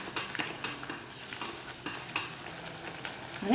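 Pirandai kulambu, a Tamil tamarind sauce, bubbles and sizzles steadily in a pan, a continuous crackling simmer with occasional soft stirring scrapes, close by and without any talk.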